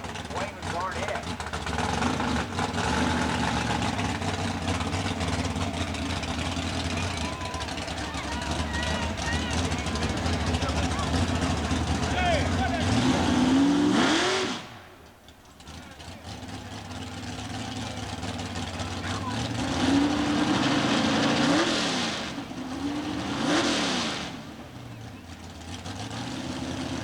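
Hearst Oldsmobile, a former Pro Stock drag car, at a drag strip, its engine droning and revving with a rising howl before a sudden drop, then building again, loud and continuous under an announcer's voice.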